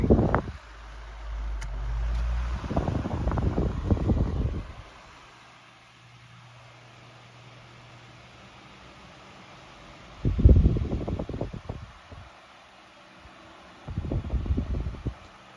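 A 2002 Lakewood 12-inch oscillating desk fan runs with a soft, steady airy whoosh, interrupted by several louder gusty rumbles as the head sweeps toward the microphone and away again.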